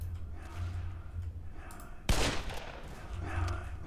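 A single sharp revolver shot bursts out in a Roblox zombie survival game, loud and abrupt midway through, with game ambience and a low hum before and after.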